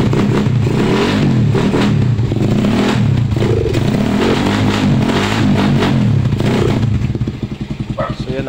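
A Suzuki Raider 150 carbureted motorcycle engine runs close up after an oil and filter change, loud and throaty with repeated revs rising and falling, then settling into a lumpy, pulsing idle near the end.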